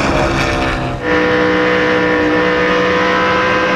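A stock car engine roars loud and continuous during a race restart at the Pennsylvania 500, with a brief dip before the revs climb and hold steady through the turn.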